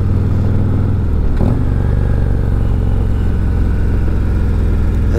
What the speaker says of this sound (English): The bike's pointed in the direction I want to go, straight ahead, and I can open up the throttle.